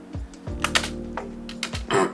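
Shift and spacebar pressed on a computer keyboard: a few distinct close clicks and thumps of keys, with a low steady hum underneath.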